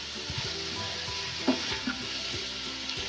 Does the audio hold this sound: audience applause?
no